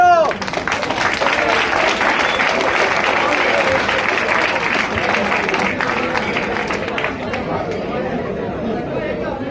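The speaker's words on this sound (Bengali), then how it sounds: "এই এদের জন্য একটা জোরে হাততালি দাও।" An audience at a university award ceremony applauds loudly as honourees are called on stage, sustained clapping mixed with crowd chatter and voices throughout.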